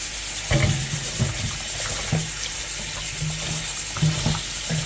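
Raw chicken pieces are rinsed with squeezed lime and water in a bowl, giving repeated splashing, swishing and clattering bursts under a steady running-water hiss.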